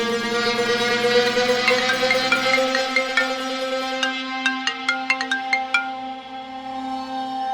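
A mobile phone rings with a melodic ringtone, a bright repeating tune over a steady low tone, ending in a run of quick chiming notes; no voices.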